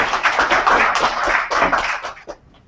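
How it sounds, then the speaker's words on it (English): A conference audience applauds the CTO of the host company as he is introduced, a short burst of close, dense clapping that quickly thins out and ends. "Let's give him a big round of applause"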